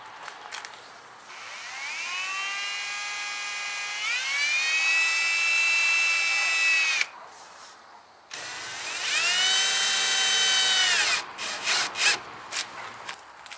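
A power drill drives screws through a 2x4 to mount skis on a JetSled, two long rising whines that climb and hold steady, separated by a short pause, followed by a few brief bursts near the end.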